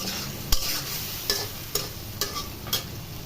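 Masala frying in a pan as its water is cooked off, a steady close sizzle broken by five sharp scraping strokes of a spoon stirring at irregular intervals, no talking.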